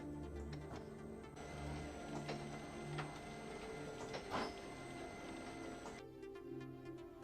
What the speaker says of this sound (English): Press the button for double sheet positioning run twice again, and the sheet will be transported to the delivery.